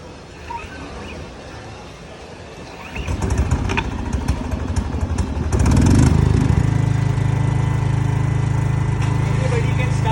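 Bajaj 12.5 kW soundproof petrol portable generator started by recoil pull: a few quiet handling sounds, then the engine catches and roars into a loud, steady run close by, with a voice speaking over it.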